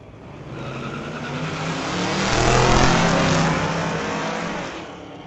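A 1967 Ford drag car accelerates hard down the strip at a street-legal drag night, its engine roar building steadily to a loud peak mid-run and then easing off, with no talk over it.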